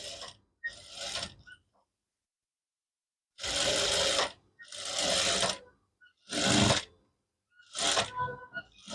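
A sewing machine runs in several short bursts with pauses between, stitching a half-inch seam on a ready-made dress being altered to size; the motor whirs loud and close, with no talking.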